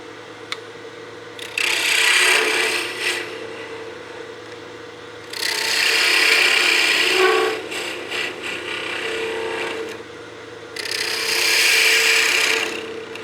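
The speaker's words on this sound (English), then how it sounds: "So I'll get my spindle gouge" A spindle gouge cuts wood spinning on a lathe in three bursts of rough, scraping rasp, each a few seconds long and separated by quieter pauses with the lathe's faint hum.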